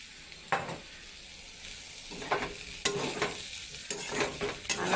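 Onions and green chillies stirred into a pan of frying aubergine and boiled potato for a rural Bengali bhaji, giving a steady sizzle with several scraping stirs, close and clear, with no talking.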